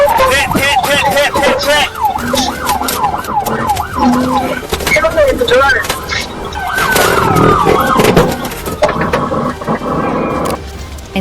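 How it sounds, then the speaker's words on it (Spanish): Police sirens wail and yelp loudly during a high-speed car chase through dark city streets, with engine and traffic noise underneath. "Las sirenas sonaron."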